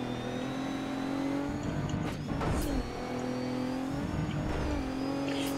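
Rally car engine in the Dirt 3 racing game revving hard through gear changes, a loud sustained whine that drops and climbs again twice, with no talking.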